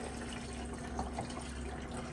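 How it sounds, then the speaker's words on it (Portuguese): A small amount of water is poured into the water tank of a Philco side-by-side refrigerator, making a faint, steady trickle and splash that runs throughout with no other sounds. "Bom, ó, você vai abrir aqui a tampinha. E aí, ó, vou colocar um pouquinho de água."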